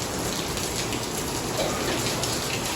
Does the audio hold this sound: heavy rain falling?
yes